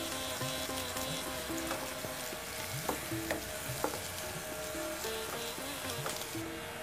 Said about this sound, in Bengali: পেঁয়াজ প্রায় ভাজা হয়ে এলো